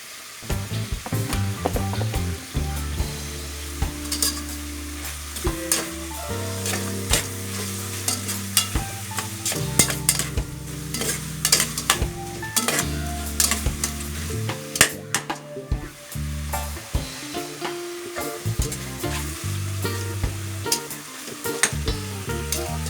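Chicken pieces sautéing for Filipino tinola sizzle steadily in a hot pan, with frequent stirring scrapes and clinks of a utensil against the pot, close and continuous throughout.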